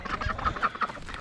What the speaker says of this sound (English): Try to get these ducklings